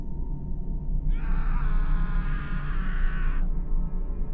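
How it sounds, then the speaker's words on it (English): Screaming from a neighbour's house: a single sustained, high scream rises out of a low rumbling background, lasts a little over two seconds and cuts off, sounding muffled and somewhat distant. "that's when I heard screaming from behind my house"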